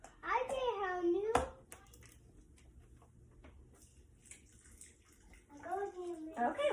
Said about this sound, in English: I am going to add 6 cups of chicken broth.